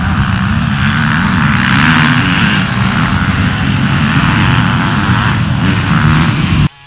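Motocross motorcycle engines roar at a race, a loud, continuous droning rumble of several engines that swells and fades slightly without pause.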